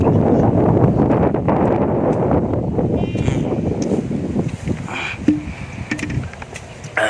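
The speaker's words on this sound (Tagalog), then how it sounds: "mahangin dito" Steady wind roars and buffets outdoors, a broad rushing noise with gusty rumble filling the whole stretch, no one speaking.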